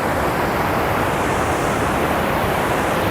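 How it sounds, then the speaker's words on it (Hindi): Steady broadband rush of river water flowing below the Kedarnath trek path, a continuous close wash with no talk. "और देखिए नीचे कितना खूबसूरत पानी बह रहा है"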